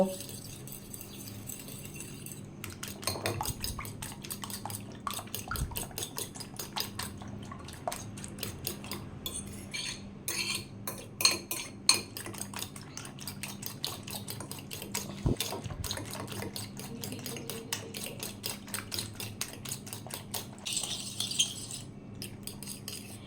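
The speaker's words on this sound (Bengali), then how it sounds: "ডিমগুলো ভালো করে ফেটিয়ে নেব।" Eggs whisked in a bowl for a steamed egg dish cooked in banana leaf, with garlic added, heard as a steady, rapid clinking and scraping of utensil against the bowl, close and continuous, with a brief faint voice.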